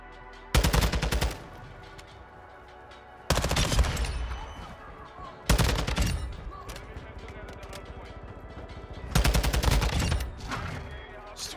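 Submachine gun fire in the video game Modern Warfare 2: four loud, close bursts of rapid automatic shots, each lasting about a second, separated by short pauses.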